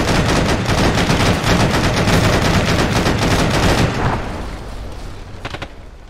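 Dense gunfire in the Arma military video game: sustained rapid automatic bursts for about four seconds, loud and close, then tapering into scattered shots.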